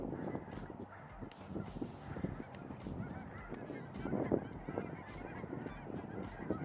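Geese honk at a pond at Roger's Grove in Longmont, Colorado, a dense chorus of overlapping calls at moderate distance that continues steadily throughout.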